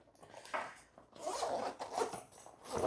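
Zipper on the main compartment of a Travelpro Altitude backpack being pulled open, a close, quiet rasping zip running in a couple of strokes with brief pauses between.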